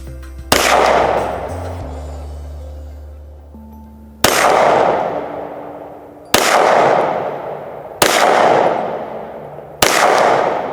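A pistol topped with a Cyelee Bull X Pro red dot fires five loud, sharp shots spaced roughly two seconds apart, each followed by a ringing outdoor decay.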